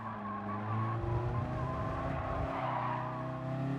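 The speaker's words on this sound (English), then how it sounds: "Tire screeching makes you really feel alive" Cars racing in Gran Turismo Sport, with a steady engine drone and a sustained, rising tire squeal through most of the stretch, loud and continuous with no talk.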